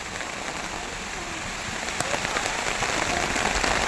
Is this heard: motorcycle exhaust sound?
no